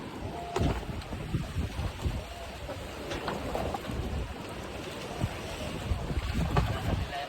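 Steady wind gusts and rumble at a fishing harbour where a deep-sea fishing boat is unloading its catch, with broadband noise, faint water sounds and occasional knocks throughout.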